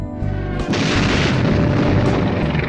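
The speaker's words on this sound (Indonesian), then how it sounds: "Titik pertama yang adalah pesawat terus menuju ke laut dan meledak." A plane explodes over the sea with a deep boom that erupts suddenly and rolls into a loud, sustained roaring rumble that fills the space.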